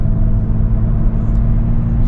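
A 2008 Chevy Equinox with a newly replaced outer tie rod drives along the road, heard as a loud, steady, low engine and road rumble from inside, with no talking.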